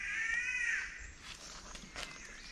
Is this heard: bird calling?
yes